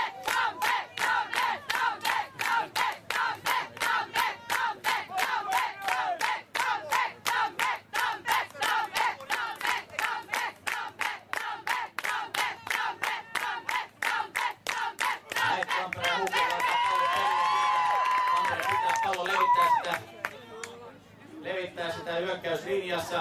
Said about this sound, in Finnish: Nyt kannustusta, nyt kannustusta.